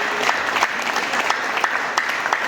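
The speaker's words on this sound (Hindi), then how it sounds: "एक बार इनके लिए जोरदार तालियां होंगी।" An audience at a large planning meeting breaks into sustained, loud applause, a dense steady roar of many hands clapping with no pauses through the whole stretch.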